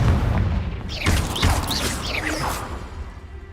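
A Confringo fire-spell blast in Hogwarts Legacy: a deep booming burst with whooshing, crackling flares that swell and fade over a few seconds, loud and close, with no talking.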